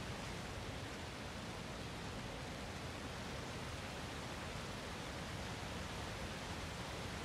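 A huge waterfall in the video game Shadow of the Colossus gives a steady, dense roar of rushing water, loud and unbroken the whole time, with no voices over it.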